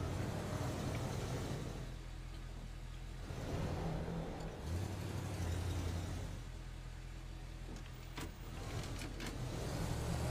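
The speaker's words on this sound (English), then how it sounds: "As we try and drive the vehicle." Vehicle engine in the physics sandbox game Teardown, a steady low rumble running throughout with slight surges and dips, a few faint clicks near the end, no talking.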